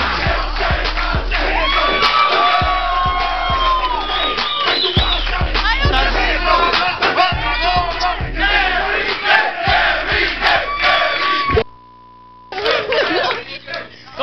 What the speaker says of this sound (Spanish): Traigamos un fuerte aplauso a Sandra